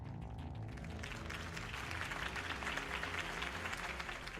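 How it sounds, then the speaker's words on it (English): Crowd applause after Harvey Dent's campaign speech in the Batman Telltale video game, a steady dense wash of clapping that holds throughout with music or ambience underneath. "If only Mr. Wayne, my campaign's largest backer, could have heard that applause"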